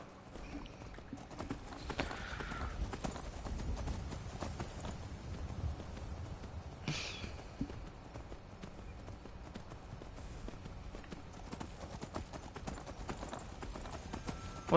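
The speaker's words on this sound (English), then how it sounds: "Let's go, horsey." Horse hooves clip-clop steadily while riding in the Skyrim video game, a quick, regular beat of footfalls heard up close over a quiet game ambience, with a short brighter burst midway.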